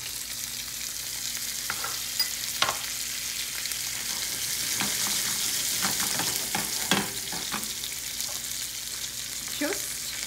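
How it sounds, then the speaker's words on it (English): Salmon fillet frying skin-side in a pan with butter added, a continuous close crackling sizzle punctuated by occasional spatula taps and pops. "At this point, I like to add in some butter."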